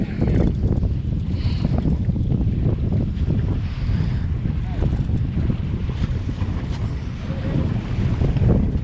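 Strong wind buffets the microphone with a steady roar and low rumble over open water on a tuna fishing trip, no talk.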